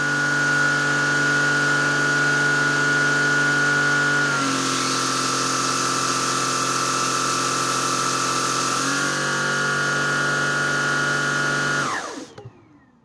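A MOOSOO S2 vacuum cleaner runs at high suction with a steady motor whine, shifting pitch twice as the power setting changes, then winding down and cutting off near the end.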